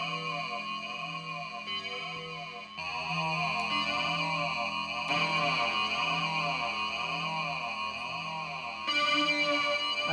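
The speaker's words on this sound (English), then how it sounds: "I don't like the sound of the amp" Electric guitar played through an amp with effects, sustained distorted tones with chorus-like wavering and echo, chords shifting in long held swells, no voices over it.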